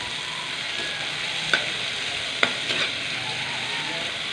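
Onion and tomato sauté in a pan with a steady sizzle, and a utensil clicks against the pan with a few sharp scrapes.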